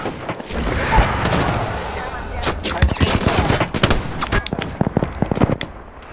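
Rapid bursts of automatic gunfire in Apex Legends strike the player, crackling fast and close over a busy game soundscape, with sharp shots clustering toward the end.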